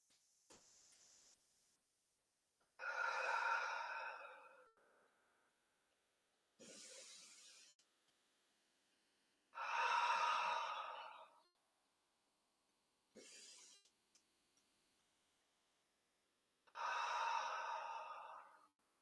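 Slow, deliberate breaths during a yin yoga stretch, three long airy exhales separated by shorter inhales and quiet pauses, close and soft in a silent room.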